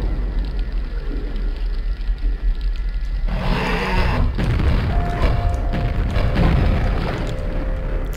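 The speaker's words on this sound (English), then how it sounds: "I just grenaded you in the face" Grenade blast in Quake, a sudden loud broadband boom with deep low rumble that rings out for a few seconds over steady game background noise.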